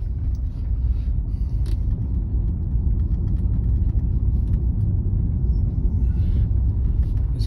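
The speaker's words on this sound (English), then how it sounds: "Cars passing me on the right hand side now." Cars pass a Tesla Model Y on the road, heard as a loud, steady rumble of tyres and engines from nearby traffic, with no speech.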